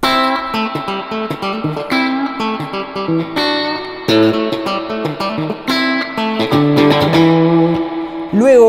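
A distorted electric guitar on its bridge pickup alone plays a busy riff of chords and single notes, loud and gritty, ending in a squealing bend.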